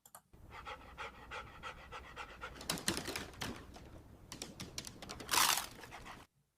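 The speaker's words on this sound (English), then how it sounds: "So there's that dog." A small dog pants rapidly and steadily in an AI-generated video, close and fairly quiet, with a brief louder burst of hiss near the end before it cuts to silence.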